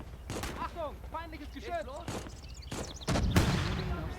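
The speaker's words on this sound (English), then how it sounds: "They're firing over here" Gunfire in a World War II trench battle in the game Gates of Hell: sharp, irregular shots crack amid the battle noise, with a heavier burst near the end, while a voice talks over the action.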